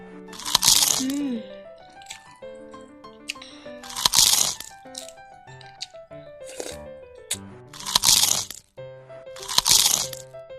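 Loud, close crunching of crisp raw vegetables eaten with khanom jeen rice noodles, in four strong bursts spaced a few seconds apart over a faint tonal background.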